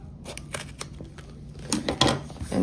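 Scissors trim a thick boxed fabric seam down close, giving several crisp snips and crunchy cuts near the listener, louder toward the end.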